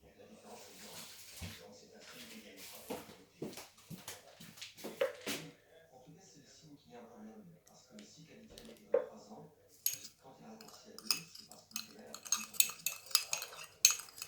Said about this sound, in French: Bien remuer. Je vais rincer ma cuillère.